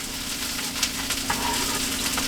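Steady sizzling and crackling from chopped garlic frying in a hot pan, continuous and close, with small pops scattered throughout.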